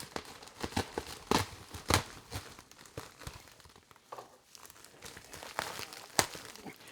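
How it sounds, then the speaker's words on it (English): A basic shipping package holding a pen and stationery bag is cut and torn open. Close crinkling, rustling and tearing come in irregular bursts, fairly faint, with no voice. "And get this cut open here."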